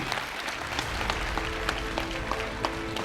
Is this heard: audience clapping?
yes